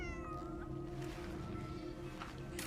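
A cat in the video game Cronos: The New Dawn meows close by, one drawn-out cry followed by shorter mewing calls over faint background hum.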